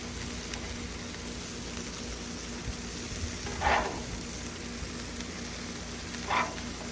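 Buns browning in butter on a griddle make a constant low sizzle, broken by two short louder scraping bursts from the spatula.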